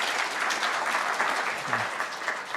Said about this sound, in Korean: 간단하게 박수 좀 부탁드립니다.